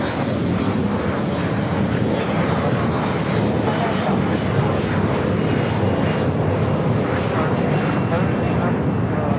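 A British Airways airliner from London Heathrow on final approach at LAX makes a continuous, fairly loud engine roar that holds steady throughout.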